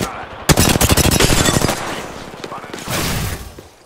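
Automatic gunfire in the game Apex Legends rattles close and loud in a rapid burst, tapering off before a second, softer volley, with a voice speaking over it.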